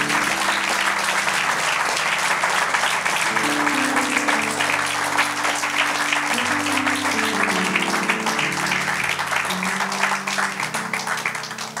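A church congregation bursts into sustained, loud applause to acclaim the Lord during a morning service, dense clapping filling the room steadily with some voices mixed in, easing slightly toward the end.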